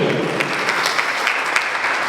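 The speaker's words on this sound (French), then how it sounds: "Mesdames et messieurs, on va applaudir le directeur." Loud, dense applause from an audience at a Vodacom and Itel press conference in South Kivu, continuous clapping close up for a couple of seconds.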